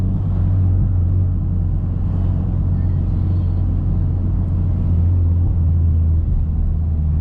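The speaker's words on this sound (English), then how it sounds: "Man, there's a lot of traffic here." Heavy road traffic passes close by, making a loud, steady rumble of car and truck engines and tyres that keeps going without a break.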